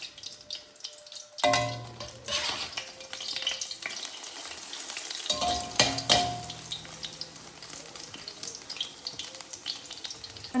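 An egg frying in oil in a pan, left to cook without stirring: a continuous close crackling sizzle that swells loud after a quiet start, with a brief dip and louder bursts of spattering.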